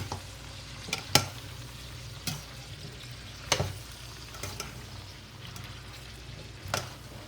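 Zucchini frying in a pot crackle with a soft, steady sizzle, broken by a few sharp scraping clinks as the pieces are stirred now and then.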